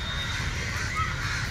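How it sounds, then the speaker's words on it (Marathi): Crows caw repeatedly in a garden, a steady chorus of harsh calls at moderate distance over a continuous low background rumble. "कावळे किती गागताय पाना."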